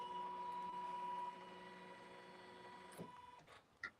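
A Club Continental M17 sewing machine stitches in ordinary sewing mode with a steady motor hum that drops in pitch partway through, followed by a few faint mechanical clicks and knocks close by.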